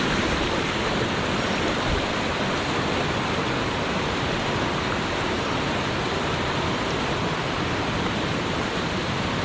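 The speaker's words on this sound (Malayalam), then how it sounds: "അങ്ങോട്ട് താഴോട്ട് കുറച്ചുകൂടെ ഇറങ്ങിയപ്പോൾ വെള്ളത്തിൻ്റെ ഫ്ലോ ഒക്കെ കൂടിയിട്ടുണ്ട്" Forest stream on Aranamala hill near Meppadi, Wayanad, its water flowing harder further downstream toward a foaming fall; a steady, dense, close rush of water fills the whole stretch without pause.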